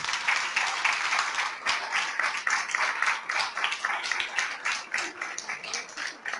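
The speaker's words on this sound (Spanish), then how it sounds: "y con este aplauso comenzamos" Audience applause at the opening of a festival of memory and identity, a steady wash of many hands clapping throughout at moderate level, without voices.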